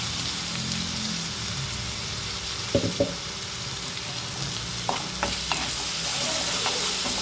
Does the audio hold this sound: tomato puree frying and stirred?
yes